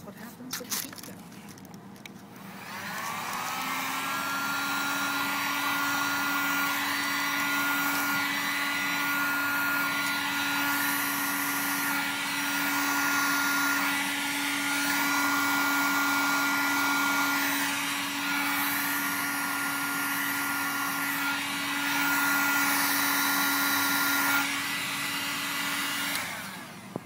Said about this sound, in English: And that's what happens with the heat gun.